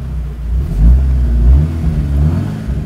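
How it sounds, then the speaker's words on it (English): A 2015 Volkswagen Golf R Cabriolet engine rumbles low and close, swelling as it revs up a couple of times before settling into a steady idle. "So now I will start the engine."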